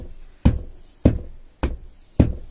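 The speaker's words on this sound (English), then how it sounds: "if you hear like a banging on your door" Four heavy, evenly spaced thuds of banging on a door, each a deep, booming knock about half a second apart, close and loud with quiet in between.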